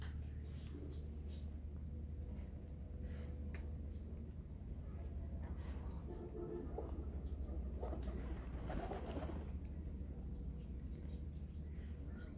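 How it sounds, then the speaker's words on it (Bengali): Pigeons cooing softly during midday feeding in a loft, faint low rhythmic coos repeating under a steady background hum, with occasional light rustles and wing flutters. "কবুতরের দুপুরে খাবার দিলাম"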